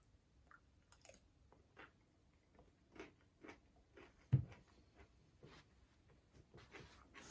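Roasted radish being chewed up close: a quiet run of soft, moist crunches and bites in an irregular rhythm, with one sharper crunch partway through and no talk.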